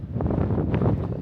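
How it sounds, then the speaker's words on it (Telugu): Heavy wind blowing outdoors in freezing snowy weather, a loud continuous low rumble buffeting the microphone in uneven gusts, with no voices. "హెవీ విండ్ ఉంది."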